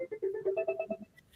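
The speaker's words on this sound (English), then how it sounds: "my phone's ringing" A mobile phone rings with a rapid electronic melody of short repeated tones, fairly close and clear, fading out after about a second.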